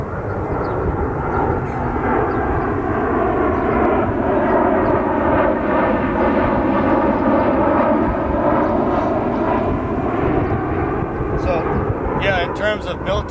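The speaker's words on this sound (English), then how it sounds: "I'll wait till this plane goes over." A propeller airplane drones overhead in a loud, continuous rumble that swells and slowly shifts in pitch as it passes, with a voice briefly audible toward the end.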